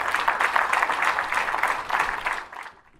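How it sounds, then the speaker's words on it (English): Audience at an awards ceremony breaks into sustained applause, a dense wash of many hands clapping close and loud that tapers away and fades out near the end. "So we also applaud Hannah."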